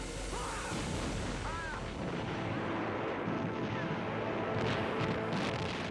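A distant artillery barrage from over 1,300 guns opening the assault on the Rhine rumbles as a continuous, muffled roar of overlapping booms, faint and steady.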